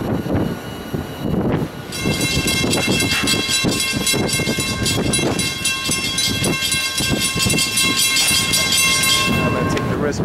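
The Florida East Coast Christmas Train rumbles past close by, its whistle blowing a loud sustained chord over the clatter of rolling cars for most of the pass.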